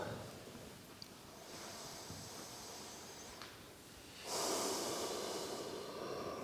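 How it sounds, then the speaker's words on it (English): Slow, deep breaths drawn in and out through the nostrils during a guided yoga meditation, close and breathy with a strong rushing exhale near the end, no talking. "begin to consciously deepen your breath"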